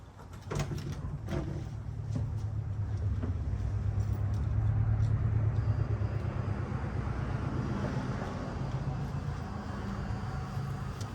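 A rear-mounted twin-turbo 1970 Mercury Cougar engine cranks and catches into a deep, rough rumble that swells and then settles, with clicks and clatter over it.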